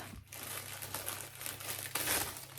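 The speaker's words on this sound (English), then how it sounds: "excuse the rustling" A fabric package being opened, with continuous close crinkling and rustling of the wrapping that swells louder toward the end.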